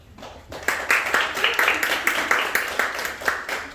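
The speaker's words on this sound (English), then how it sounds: "Big round of applause for our Toastmaster of the day, Toastmaster Manisha." Members at a Toastmasters club meeting clap for the Toastmaster of the day. After a quiet start, a small group breaks into steady rhythmic applause with regular, evenly spaced claps at moderate volume, fairly close.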